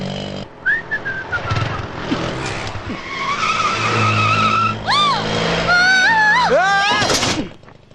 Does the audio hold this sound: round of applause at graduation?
no